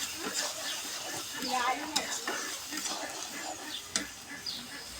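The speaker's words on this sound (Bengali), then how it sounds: "করলাম মাংসটা মশলার সাথে কষানো হচ্ছে দেখুন" Mutton being sautéed with spices in a pan, a quiet sizzle with clicking stirs and occasional scrapes against the pot, while a voice talks softly over it.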